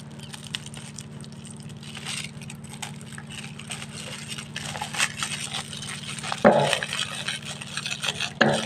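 Phenyl tablets being stirred into a liquid to make a homemade fly killer, with soft swishing and scraping under a steady hum, then a few sharper clinks of the container near the end.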